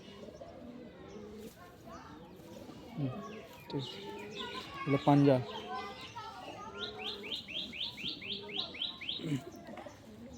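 Giribaj and Madras breed pigeons cooing in low rolling calls at close range, joined by a run of quick high chirps near the end, while someone talks among them.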